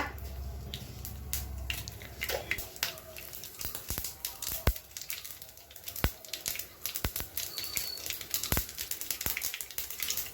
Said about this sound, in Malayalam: എണ്ണ ചൂടാവുമ്പോൾ കടുകിടുക പൊട്ടിക്കുക